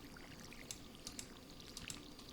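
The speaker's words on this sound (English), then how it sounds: "And I'm going to go ahead and water these." Watering can splashing onto crops in Stardew Valley, a soft pouring trickle with a few bright droplet splashes, faint and brief with no talking.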